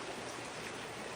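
A small stream flows in a steady, soft rushing wash of water that stays faint and continuous throughout, with nothing else heard.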